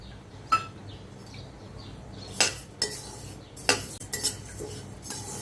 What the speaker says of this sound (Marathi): आपण आता गहू भाजून घेऊया।